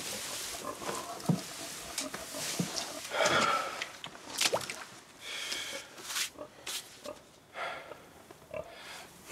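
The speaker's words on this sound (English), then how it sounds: "They're my pigs." Pigs on a farm grunting, snorting and sniffing in a busy, close jumble of short bursts, with rustling movement throughout and no clear speech.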